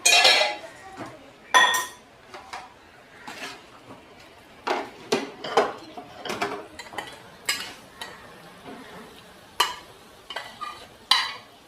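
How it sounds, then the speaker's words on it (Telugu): Raw mango and jaggery curry being scooped from a pan into a serving bowl, with repeated clinks and scrapes of a spoon against metal at an irregular pace, close and moderately loud, with no one speaking. "సర్వింగ్ బౌల్లో తీసుకుందాం."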